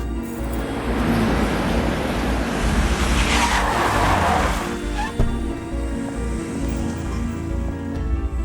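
A car brakes hard with tires skidding and squealing, a loud sustained screech that builds over several seconds before the vehicle settles, with engine noise continuing underneath.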